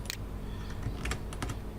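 Brisk typing on a computer keyboard into a spreadsheet cell, with a quick run of sharp, close key clicks over a faint low background hum and no talk.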